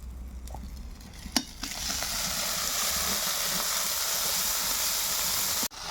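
Cumin paste hits hot oil already cooking with garlic and onion, breaking into a loud, continuous sizzle after a couple of sharp taps, then holding steady and close with no voices.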